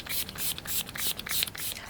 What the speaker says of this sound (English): I am going to go in with my Rimmel Stay Matte Setting Spray